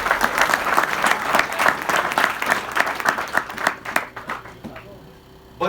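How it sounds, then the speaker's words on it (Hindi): Audience applause at a Hindi motivational comedy show, a full crowd clapping loudly for several seconds before the clapping thins and fades out. "चलो एक बार जोरदार तालियां बजा दो"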